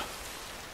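Steady rain falling in The Last of Us (2013 game), a dense broadband hiss of drops on surfaces, even and continuous with no voices over it.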